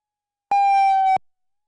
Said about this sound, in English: So that siren signals the end of the final in the under 18 boys.